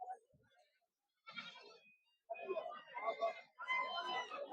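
At a goat and sheep market, goats bleat in short wavering cries, a brief call first, then louder, overlapping bleats building toward the end, with some faint background activity.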